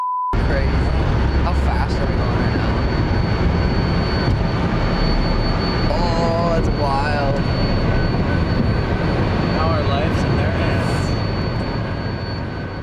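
An aircraft engine spins up into a loud, steady roar that fills the whole stretch, with people talking faintly underneath.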